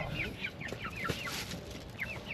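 Backyard chickens cluck in short, repeated bursts at close range, several calls overlapping over a low background murmur.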